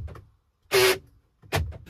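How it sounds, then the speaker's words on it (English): A car door lock actuator whirs and clunks in two short, loud mechanical bursts close by, separated by a brief pause. "Have a listen to this door when I lock the car."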